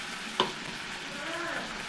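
Chopped onion with halved dried red chillies and five-spice frying in hot oil, giving a brief steady sizzle with one sharp clink of a utensil near the start.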